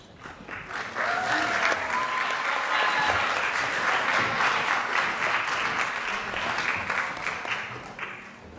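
Audience applause at a model UN closing ceremony honouring conference delegates, a dense wash of clapping from a large crowd that swells quickly and holds steady, with faint voices and whistles mixed in.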